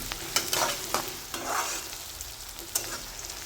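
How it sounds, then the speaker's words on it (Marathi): Peanuts and onion frying in oil, stirred with a spoon: a continuous close sizzle punctuated by sharp metallic scrapes and taps against the pan every second or so. "शेंगदाणे आणि कांदा बरोबर तळून घ्यायचा आहे."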